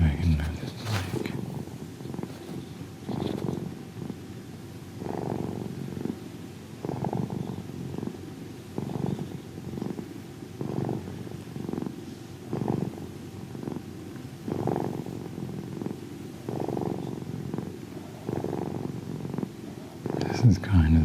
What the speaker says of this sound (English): Maybe you can hear some of those purrs.